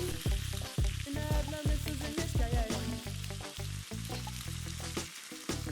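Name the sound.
saltfish stew sauce cooking down in pot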